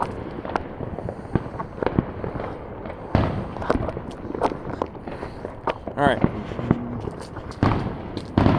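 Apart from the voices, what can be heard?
New Year's Eve fireworks exploding in the sky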